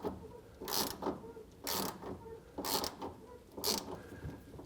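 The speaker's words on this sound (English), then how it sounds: "we will turn it in fully clockwise until it bottoms." 17mm socket turning a FOX shock adjuster clockwise on a Yamaha YXZ1000R, four evenly spaced bursts of close ratcheting clicks with quieter mechanical rattle between them, no voices.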